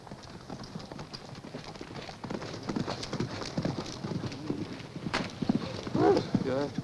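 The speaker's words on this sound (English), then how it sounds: "Look, they're bringing out the horses." Horses' hooves clip-clop steadily on the ground at a racetrack, a near, even rhythm running under overlapping talk, with a brief whinny or similar animal call near the end.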